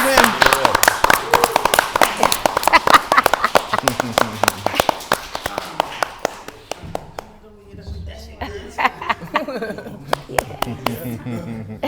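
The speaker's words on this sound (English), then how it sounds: "everyone give a round of applause for Miss Julia" A studio audience at a show claps and applauds for a woman being introduced, loud dense clapping for about six seconds that thins into scattered claps and laughter, with voices talking over the tail.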